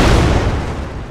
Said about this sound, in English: how to make these surrounding barrels explode when I shoot one of the barrels